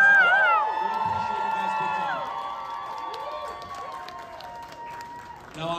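Concert crowd at a live music event in Toronto cheering, whooping and applauding, with high excited shouts rising early and a sustained roar of clapping and voices that settles and then swells again near the end.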